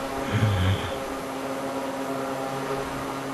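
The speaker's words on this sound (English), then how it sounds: "That is some horsepower in action right there, folks, and a prop that's really giving us a lot of thrust." Draco X propeller engine droning in Microsoft Flight Simulator 2024, a steady, moderately loud hum with a brief louder swell at the start.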